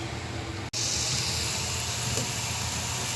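Meat seasoned with black pepper and a stock cube simmering in a pot, giving a steady, loud broadband hiss and sizzle that continues without a break apart from a very brief dropout near the start.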